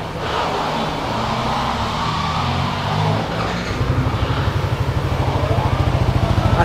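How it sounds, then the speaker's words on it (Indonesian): A Yamaha NMAX scooter, red Dark Candy finish, fitted with a ROB One aftermarket exhaust, idles with a rounded, fairly muted engine note. Partway through it settles into a steadier, slightly louder pulsing rumble, heard close and on its own. "sekarang kita coba dengar ya kayak apa bunyi dari si NMAX Dark Candy"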